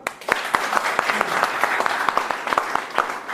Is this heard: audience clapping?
yes